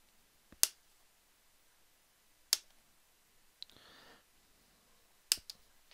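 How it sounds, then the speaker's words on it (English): Flush clippers snip off metal header pins on a Nexus DR-X power deck circuit board, giving three sharp, isolated clicks spaced a couple of seconds apart, with a faint brief rustle between them in an otherwise quiet room. "I'm going to use my clippers and just cut off four"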